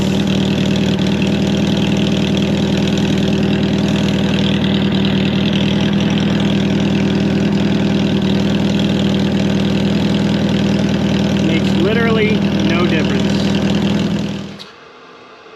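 A Porsche 914 engine with a custom megaphone exhaust idles steadily with a deep, throaty exhaust rumble for a long stretch, then shuts off and falls silent near the end.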